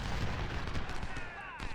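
Sniper gunfire in an American Civil War battle game set at Fredericksburg, a rolling burst of distant musket shots cracking over a dense battlefield rumble with no voices.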